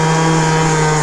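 A Piaggio Typhoon scooter with an upgraded carburettor, its engine revving in a brief, steady, loud buzzing whine up close.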